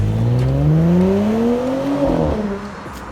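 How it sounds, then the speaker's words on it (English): A 2021 Audi S5 Sportback engine revs up loudly with rising exhaust note, a strong continuous acceleration roar that climbs in pitch then eases off. "the sweet sound from the motor and the exhaust"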